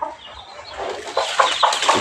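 Chickens cluck in short, sharp bursts near a cowshed, the calls growing louder and more frequent toward the end, close and without speech.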